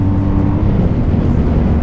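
A 2021 BMW R 1250 GS motorcycle cruising at about 100 km/h, giving a steady, close, unbroken drone of engine and road noise mixed with heavy wind rush, with no voices.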